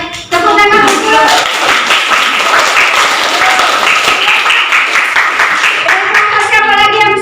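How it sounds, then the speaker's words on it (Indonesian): Loud, dense applause and clapping from a class of students in a junior high school math lesson, filling the room for about seven seconds, with a little talk at the start and end. "Ayo, tepuk tangan untuk"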